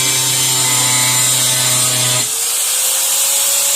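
A power tool cuts into a plastic drum used to build a fishing boat, giving a loud, continuous whine close by. The pitch drops sharply partway through as the blade load changes, and no one speaks.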